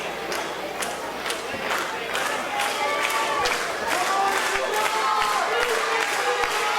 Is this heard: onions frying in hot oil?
no